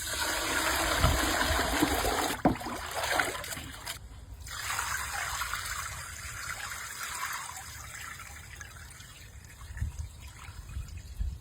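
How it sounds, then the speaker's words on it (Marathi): A second rinse of basmati rice for quail biryani, with water swishing and trickling continuously, occasional knocks against the vessel and a brief pause before the gentle pouring resumes. "अजून एक पाण्याने धुवून घेऊ आपण राईस"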